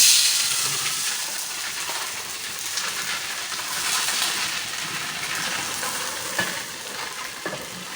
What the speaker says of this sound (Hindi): थोड़ा सा पानी लेके मैंने इस पर सिर्फ इसलिए डाला है